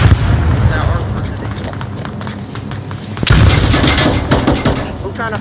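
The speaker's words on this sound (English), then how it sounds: "I got a shotgun" A shotgun fires once partway through a video game match, a loud, sudden boom that rings out over continuous rumbling game noise and possible voices.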